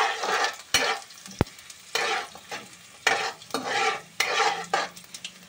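Garlic cloves and cumin seeds sizzle in hot oil in a pan, with steady frying hiss under rhythmic scraping stirs of a spoon against the metal, close and fairly loud.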